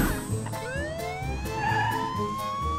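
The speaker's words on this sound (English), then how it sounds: "Let's call for a police car!" A cartoon police car siren wails upward in rising sweeps over bouncy children's music with steady rhythmic beats, moderately loud and without voices.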